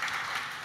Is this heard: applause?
yes